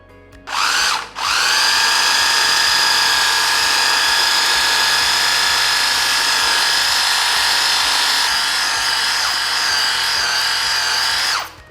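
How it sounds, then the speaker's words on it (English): An electric hand whisk beats homemade mayonnaise, its motor whining loud and close. A short burst comes first, then a brief pause, then about ten seconds of steady running with no talk. "Doing this, especially when you're using an electric hand whisk, makes it faster"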